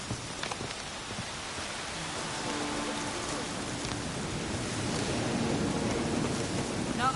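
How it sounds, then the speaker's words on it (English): Rain falls in The Witcher 3, a steady hiss of drops on surfaces that slowly grows louder, with faint game sounds underneath. "Looks like rain."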